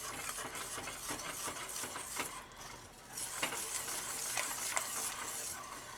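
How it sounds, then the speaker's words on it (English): Sour cream being whisked into warm queso sauce in a pan over medium heat, with brisk rhythmic scraping and clicking of the whisk, steady and close throughout without speech. "I'm going to whisk the sour cream in."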